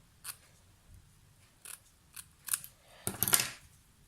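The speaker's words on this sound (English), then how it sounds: "If I just start the motion with my little snips here." Small snips cut the thread on a decorated gift bag with several quiet, crisp clicks spaced through the moment, ending in a quick flurry of snipping up close.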